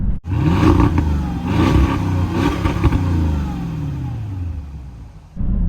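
A Porsche Cayenne Turbo 955 engine revs hard up to around 4,000 RPM, loud and close, with rising and falling sweeps of engine pitch that hold before cutting off abruptly.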